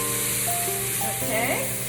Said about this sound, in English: So I've chopped up a bunch of onion. Throwing that in there. Yes, gotta hear that sizzle.